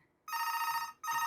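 An incoming call on a mobile phone, sounding as a bright electronic ringtone in two bursts separated by a short gap, close and clear over a quiet room.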